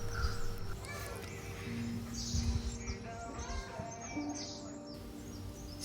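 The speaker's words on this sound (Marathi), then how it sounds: "सकाळी सकाळी या पक्ष्यांची मधुर सुरावट ऐकूनच आपल्याला जाग येते." Birds singing in the morning in a Konkan village, scattered chirps and whistled notes near and far over a low ambient hum, with a faint tonal drone and soft background noise.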